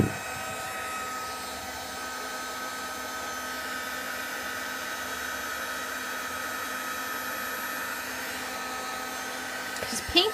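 A hair dryer blows steadily on wet paint spread over a silicone craft mat, a constant even whoosh that runs close and unbroken for the whole stretch, ending with a few faint clicks.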